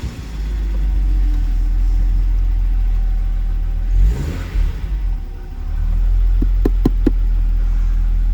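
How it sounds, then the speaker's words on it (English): A classic car engine fires up, settling into a loud, steady idle rumble with a brief dip midway and a few sharp knocks near the end. "So let's just see if it fires up."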